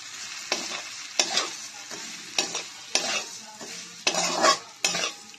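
Vermicelli chow mein fries in a pan, with repeated rhythmic scraping stirs about every half second over a crackling sizzle, close and clear with no talking.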